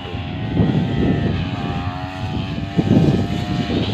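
A brush cutter's small engine buzzes steadily while clearing weeds around citrus trees in an orchard, heard from some distance with its whine swelling and easing as the blade works.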